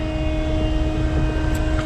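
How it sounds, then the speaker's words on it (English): A mobile crane's hydraulic system warms up its fluid with a steady, loud mechanical drone carrying sustained whining tones, running unbroken and close throughout. "make a terrible sound. But that's just heating up the hydraulic fluid so you don't cause troubles on pumps and stuff"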